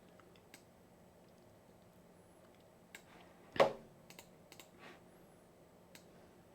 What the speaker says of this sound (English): Just trying out a new keyboard that arrived during the stream. Typing is hard.